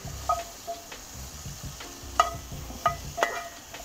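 Soft sizzling of ribeye steaks cooking indirect on a Weber kettle grill, a low steady crackle broken by several sharp metallic clicks and taps, with no one talking.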